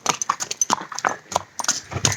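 Horse hooves clip-clop in a steady, fairly close rhythm during a ride at a haveli, with bright repeated strikes over faint background sound.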